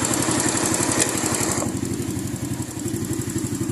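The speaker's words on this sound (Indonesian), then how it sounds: "Di sini kontaknya kita on kan, terus kita hidupkan mesinnya" A Honda Astrea motorcycle engine, started without a battery, runs at a close, steady, rapid putter. Its pitch drops partway through as it settles into idle.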